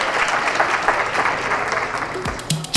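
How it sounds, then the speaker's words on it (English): Audience applauding a scholarship winner at the UC Star Awards, a dense, loud round of clapping that carries on steadily throughout. "Give her a round of applause again"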